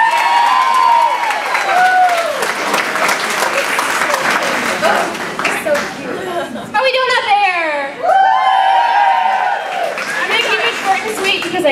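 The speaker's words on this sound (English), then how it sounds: "Clap your hands for Liz, folks." Wedding guests clap and cheer loudly for the maid of honor, a dense sustained burst of applause with shouts and chatter, and people talking over it.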